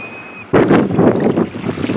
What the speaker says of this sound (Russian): Хотя ветер уже стихает под вечер.